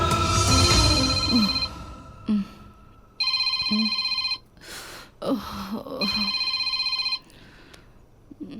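A telephone rings in repeated electronic bursts, loud and close, with short pauses between them. Brief rustling and a breath come between the rings.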